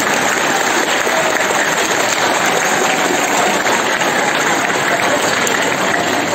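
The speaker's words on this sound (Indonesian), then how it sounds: "Tepuk tangan untuk anak-anak semuanya." Sustained applause for the students at a junior high school gathering, a dense, steady crowd clapping that stays loud and even throughout, sounding close and filling the room.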